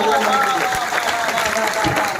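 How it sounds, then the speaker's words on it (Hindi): Audience applause at a Hindi comic poetry event in Beawar, a brief burst of clapping with crowd voices and talk over it, steady and fairly loud across the short moment. "एक बार जरा जोरदार ताली बजाएं।"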